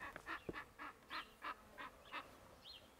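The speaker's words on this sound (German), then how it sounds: "Jo, die Raben." Ravens calling outdoors near a tree, a series of about nine hoarse, evenly spaced caws, fairly distant and faint against a light background hiss.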